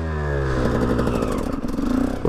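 A motorcycle being ridden on the road, its engine loud and close as it revs with rising and falling pitch and a rough, rattling exhaust.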